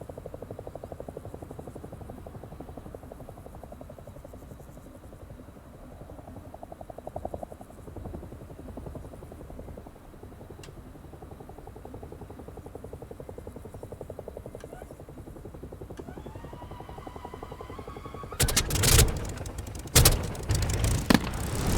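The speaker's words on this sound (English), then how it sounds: "Now we need to make sure the engine is running smoothly without any indication of a problem." Aircraft engine spinning up during a startup sequence in the DCS World flight simulator, a low droning whine that builds gradually, followed near the end by loud bursts and thumps as it catches.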